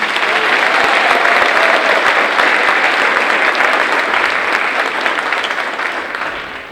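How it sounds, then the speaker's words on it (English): A crowd of students, faculty and parents claps loudly for two achievement award recipients at a high school Decision Day ceremony, producing sustained, close applause that tapers slightly at the end. "Let's give another round of applause for the two recipients of the Redskin Achievement Award and Senior Rhett Lehman."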